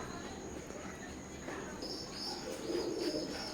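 A pair of Oman bloodline teddy pigeons coos faintly and intermittently against a quiet room background, with the low calls growing slightly fuller near the end.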